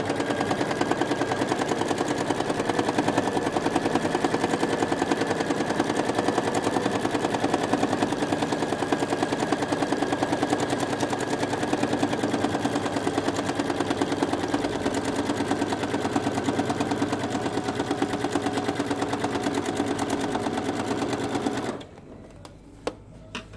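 A domestic sewing machine runs free-motion quilting at a workshop, giving a rapid, continuous stitching chatter for about twenty seconds before it stops abruptly.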